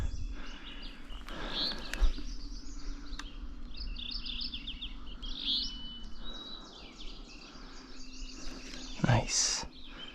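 A mourning warbler sings in Nova Scotia with several short, bright chirping phrases over a breezy outdoor background, and people murmur quietly at times.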